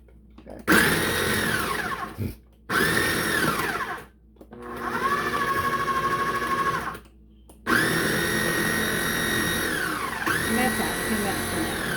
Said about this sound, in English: This is a new food processor.